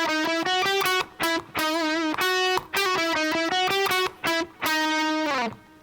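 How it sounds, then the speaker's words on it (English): Electric guitar phrases of a pop song, played through a Diamond delay pedal with a slight echo, sound as bright sustained notes in short bursts with brief gaps and a small slide near the end. "maybe you can hear a slight echo from the diamond delay there"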